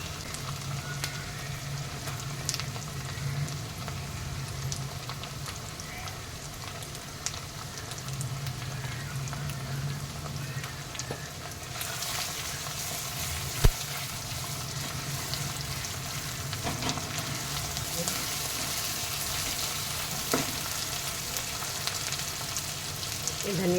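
A steady, soft sizzle of ground tomato and onion masala frying with ginger and garlic fills the background, with occasional stirring scrapes and small clinks throughout.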